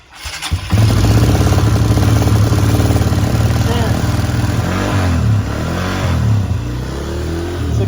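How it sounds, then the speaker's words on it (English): A Honda CRF150 motorcycle engine cranks and catches on choke, then settles into a loud, steady idle that wavers slightly in pitch before easing down near the end. "let's see if it has enough juice to start"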